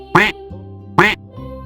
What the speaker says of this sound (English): D is for duck who says quack all day.